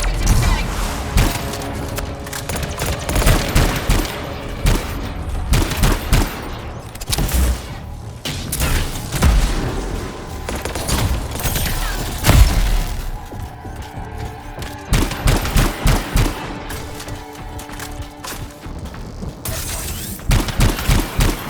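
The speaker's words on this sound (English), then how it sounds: "Not used to having professional soldiers shoot at us." Professional soldiers shooting in the video game Anthem, with dense bursts of gunfire, booms and crashing impacts through a long, loud battle, plus occasional talk.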